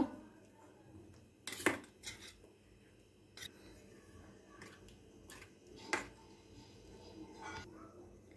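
A utensil mixes chili, yogurt, coconut powder, spices and salt into food in a dish, making faint, sporadic clinks and short scraping taps against the container in a quiet kitchen.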